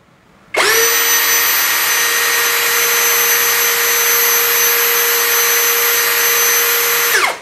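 A Hasston 21V cordless brushless impact drill spins up at speed setting 2 and holds a loud, steady high-pitched whine for about seven seconds, close and alone, before cutting off.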